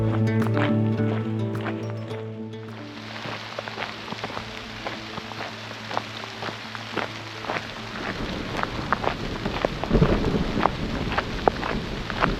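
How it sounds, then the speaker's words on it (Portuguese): Rain falling outdoors during a thunderstorm, a steady hiss with scattered crackling drops and a low rolling rumble of thunder building toward the end, with a faint tonal drone fading early on. "Raios e trovões."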